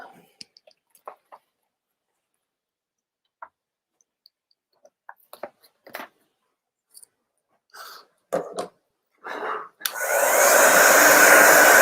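A hair dryer switches on and blows a loud, steady whoosh over the last couple of seconds, drying a handmade kitchen craft, preceded by scattered clicks, taps and soft handling noises in a quiet room.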